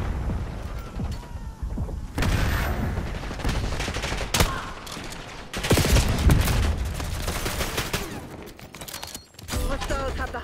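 A frag grenade and gunfire during a Hardpoint match in Call of Duty: Black Ops 6, with loud, dense, rattling shots in sustained bursts, a heavier blast partway through, and brief lulls between volleys, close and busy.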